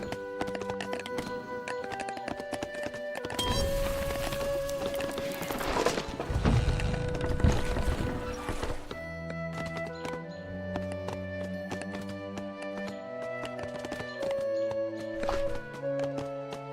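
Horses in the 0 A.D. strategy game, soft clip-clop hooves and tapping unit sounds at low volume, with a burst of busier noise midway and a faint commentator voice in the background.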